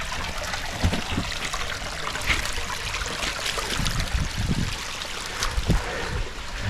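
Water trickles and drips beneath a rock overhang beside a stream at Gunpowder Falls, a steady close flow with irregular soft splashes and no voices.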